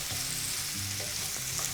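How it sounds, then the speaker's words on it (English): Mushrooms sauté in a hot pan with a steady, loud sizzle that fills the short moment, with no voice over it. "We're going to saute these for anywhere from 3 to 5 minutes"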